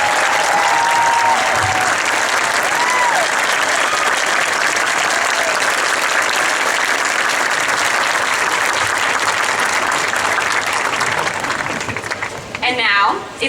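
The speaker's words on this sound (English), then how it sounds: "So please give a warm round of applause for Mr." Audience applause at a Disneyland Resort ambassador ceremony, sustained loud clapping from a large crowd that holds steady and tapers off at the end, with faint voices near the close.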